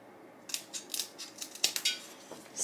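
Old scissors trim the ends off craft sticks for a Christmas decoration, giving a series of sharp, close snips and clacks spaced irregularly over a few seconds against a quiet room.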